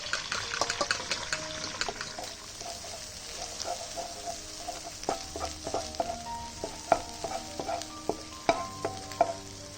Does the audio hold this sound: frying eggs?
yes